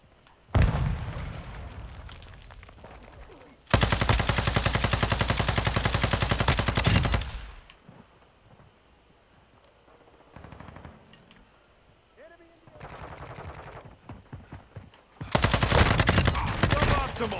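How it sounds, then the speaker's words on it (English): Gunfire and a grenade blast in Call of Duty: Modern Warfare II at the Shoot House, with long loud bursts of automatic fire separated by quieter stretches of scattered shots and game sounds. "Throwing grenade!"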